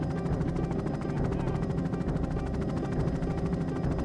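Rescue helicopter searching low over the sea off a beach during a hunt for missing fishermen, a steady rotor thump and engine drone that holds constant and fairly loud throughout, with no voices.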